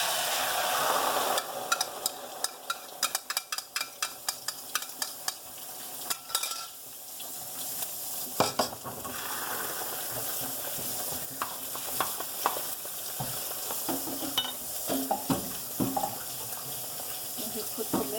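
An egg sizzles and fries in a pan for an egg omelette with vegetables, with a run of rapid scraping stirs near the start and scattered clicks and scrapes after, under a steady hiss, close and fairly loud with no talk.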